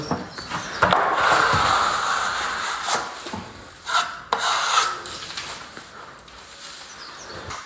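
Plaster smoothed with a trowel across a wall of a house extension, a steady close scraping and rasping swish in long strokes with short pauses between passes, heard alone without talk.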